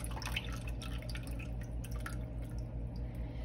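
Raw mango drink being strained through a strainer, a steady liquid dripping and trickling that runs continuously and close throughout, with no talking.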